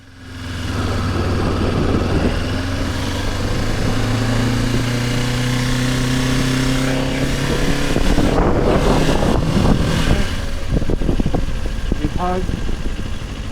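A motorcycle engine hums steadily at idle, then revs and rumbles louder as it pulls away, with traffic noise around it.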